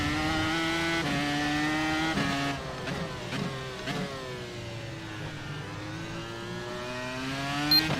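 A Dallara iR-01 open-wheel race car's V10 engine in the iRacing sim screams at high revs, its harmonics sliding up and down through gear changes and lifts, loud and steady with no talk over it.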